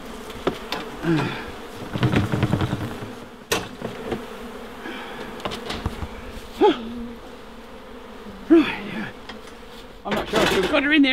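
Wild honeybee swarm clustering in a tree, a faint buzzing drone with individual bees passing close, interrupted by bursts of rustling, knocks and handling noises outdoors.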